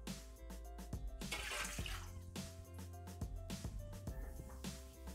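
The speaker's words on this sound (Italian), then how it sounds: "Iniziamo la ricetta mettendo all'interno del boccale l'acqua." Water is poured into a Thermomix (Bimby) mixing jug, a soft, gurgling splash that swells and fades in waves, with quiet music playing underneath.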